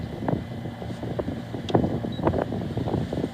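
Gusty wind buffeting a sailboat at sea off Corsica in rough weather, a steady rushing roar with brief louder gusts and wind noise on the microphone, no voices.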